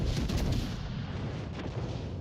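Naval gunfire in the World of Warships game during a crossfire with a Minotaur cruiser and battleships: dense rumbling cannon booms blending into a continuous loud roar, with a brief sharp crack near the end.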